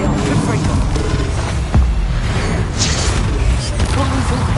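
A Confringo explosion spell cast in Hogwarts Legacy lands as a single deep thump partway through, set against busy game ambience and other spell effects at a steady, fairly loud level.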